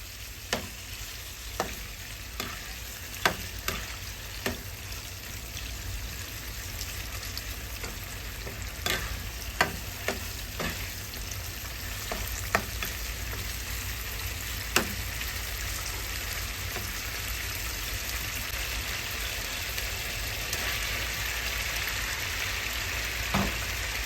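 Pork sizzles and spits steadily in a hot pan for a Thai-style tomato and egg dish, with scattered crackles and pops over a constant frying hiss.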